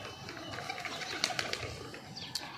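Soft pigeon coos and scattered bird calls on a house rooftop over a busy, noisy background, with faint flutters and a few sharp clicks.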